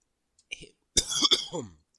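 A single sharp close cough, preceded by a small throat sound and trailing into a brief rough exhale.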